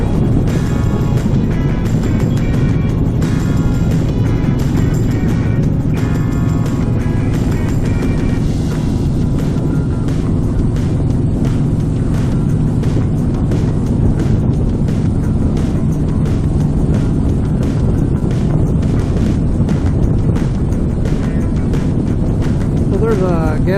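A motorcycle cruising along a road gives off a steady, loud engine drone mixed with rushing wind noise that holds at an even level throughout.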